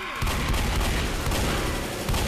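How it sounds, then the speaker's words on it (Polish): A Boomer explodes in the game Left 4 Dead on a metro level, a loud, dense blast of gunfire and booming noise that fills the whole stretch without letting up. "Boomer wybuchł na mnie."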